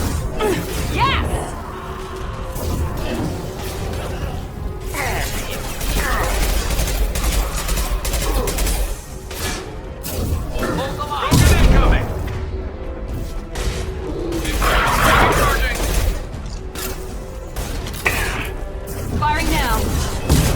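Gunfire in the Mass Effect 2 video game: dense, continuous bursts of shots and impacts in a busy, loud combat scene, with voices heard at times.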